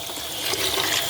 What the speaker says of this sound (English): Just flush out your boiler once a week or once a month